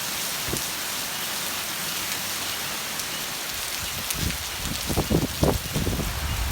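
Heavy rain pours steadily in a dense, hissing wash, with a few louder splashes and thumps near the end.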